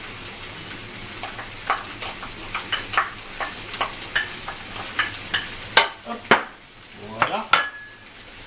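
Garlic sizzles in a pan for paella while a utensil stirs and scrapes in steady, close strokes, the clatter growing sharper toward the end; a voice speaks briefly.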